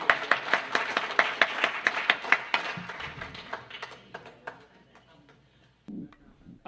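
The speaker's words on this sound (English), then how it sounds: "a round of applause for our next presenter" Audience clapping at a bio-economy forum as the next presenter is welcomed, a run of distinct rhythmic claps that thin out and fade, followed by a faint low sound near the end.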